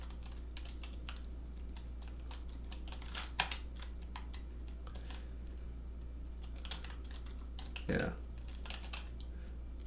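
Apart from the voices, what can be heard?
typing Python code on a computer keyboard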